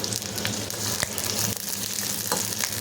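Small shallots sautéing over medium heat for a Coimbatore dried anchovy curry, a steady close sizzle with faint stirring scrapes and no talk.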